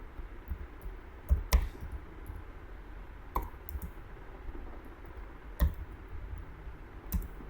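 Java code typed on a computer keyboard: sparse, irregular keystroke clicks over a quiet background, with a few sharper taps standing out.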